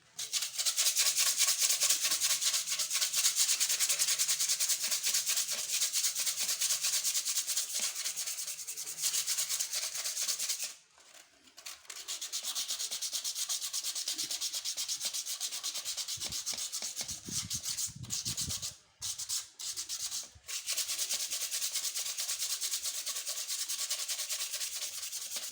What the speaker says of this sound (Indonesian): Ini amplas kita gunakan untuk merapikan.